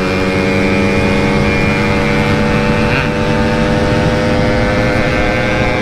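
A small-displacement Yamaha F1ZR motorcycle is ridden fast, its engine droning loud and steady at high revs throughout, with constant wind rush and no pauses.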